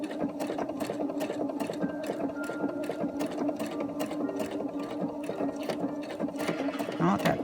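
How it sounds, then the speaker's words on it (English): A domestic sewing machine stitches fabric down with a steady, fast mechanical whir and rhythmic needle clatter, running continuously and close up, with a brief louder thump near the end. "I'm going to sew that fabric down, and then back this way."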